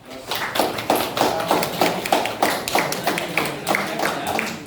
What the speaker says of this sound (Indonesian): Baik, berikan aplaus.